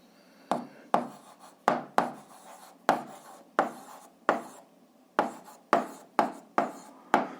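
Pen writing out an answer by hand for an 8th-grade algebra exercise, close and fairly quiet: a dozen short scratching strokes in an irregular rhythm, each sharp at the start and trailing off, with no talking.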